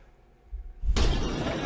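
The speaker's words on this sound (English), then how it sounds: "So a large crowd over here, smashing the SUVs." Crowd in a video game smashing SUVs: a low thud, then a sudden loud, sustained crash of shattering glass and breaking metal that continues to the end.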